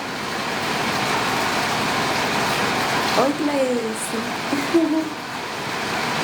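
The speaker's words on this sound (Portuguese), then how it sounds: "É que a água da piscina está ligada." Swimming pool water circulation runs as a steady, continuous wash of broadband noise throughout, with someone speaking over it near the end.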